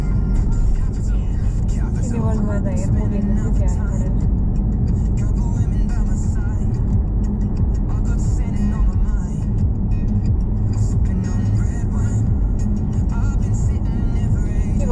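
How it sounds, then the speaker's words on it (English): A London bus, the 96 route to Bluewater, rumbles past amid steady South East London road traffic, a continuous loud low engine roar with other vehicles throughout and people talking nearby. "That's the bus to Bluewater."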